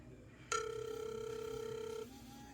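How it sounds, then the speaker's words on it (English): An incoming call rings on a Colmi P81 smartwatch: a sudden, steady electronic ring tone that starts abruptly, holds at an even level for about a second and a half, then cuts off over a quiet background. "So someone's calling."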